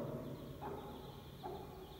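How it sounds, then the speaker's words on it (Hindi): A hen guarding her chicks makes low agitated clucking and growling sounds, with two short raised cries standing out against a steady outdoor background noise. "मुर्गी तो मेरे को गुस्सा कर रही है"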